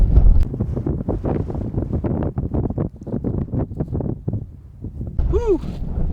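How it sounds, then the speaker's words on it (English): Cold outdoor wind buffets the microphone in gusty low rumbles, fluttering and uneven, rising and falling over several seconds, with a brief whistling tone near the end. "Whew, that's a cold breeze. It's getting a little windy again."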